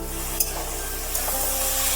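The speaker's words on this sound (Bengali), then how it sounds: "আমি এক্ষেত্রে এখানে নিয়েছি 4 থেকে 5টা মাঝারি মাপের আলু। ঢেলে দিলাম তেলের মধ্যে।" Four or five medium potatoes tipped into hot oil in a pan, giving a steady close sizzle with a couple of soft clatters as they land, no voices.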